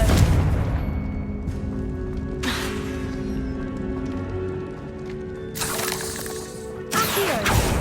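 Confringo blasting curses in Hogwarts Legacy burst out in a few sharp explosive cracks spaced across the stretch, loud and close, over a sustained game soundscape.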